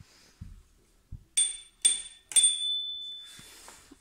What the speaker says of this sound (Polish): Tam jest dzwonek przy rowerku.